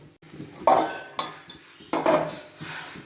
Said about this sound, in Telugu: వేపుకున్న తర్వాత ఈ పేస్ట్ అంతా దీంట్లో వేయాలండి వేసి బాగా కలపాలండి